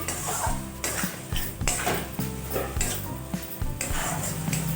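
Turmeric and ground spice paste being stirred and fried in a pan for a mutton dish, with repeated metallic scrapes and clinks of a spoon against the pan over a faint sizzle, close and rhythmic.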